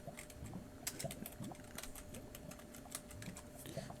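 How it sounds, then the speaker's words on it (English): Fast, close typing on a computer keyboard, a quiet and uneven patter of key clicks running throughout, with no voices. "Let me actually type that out."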